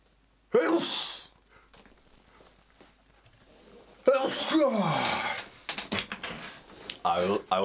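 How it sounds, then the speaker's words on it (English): A single loud sneeze near the mic with a sharp breathy burst, then quiet, followed by a person talking. "I'm gonna sneeze"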